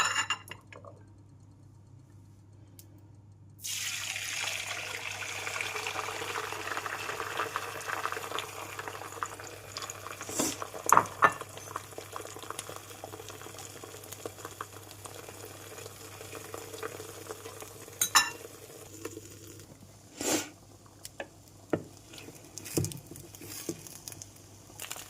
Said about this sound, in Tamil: இதை வந்து புளிக்குழம்பு கொதிக்கட்டும்.